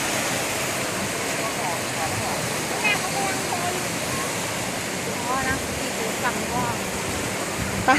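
Sea waves wash onto the sandy beach at Sai Kaew on Ko Samet, a steady broadband rush of surf throughout, close and loud.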